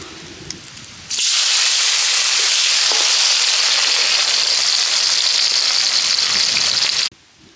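Onions hit hot oil with cinnamon bark in a village kitchen pan for Kerala-style fish biryani, bursting into a loud, steady sizzle that holds for about six seconds before cutting off abruptly.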